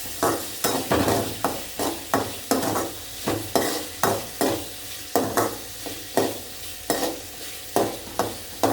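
Garlic and masala sizzle in a pan for biryani while a spoon stirs in regular scraping strokes, about two per second, close and moderately loud over a constant frying hiss.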